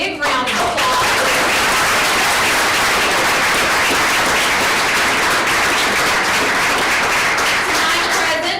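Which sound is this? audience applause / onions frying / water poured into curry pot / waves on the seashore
audience applause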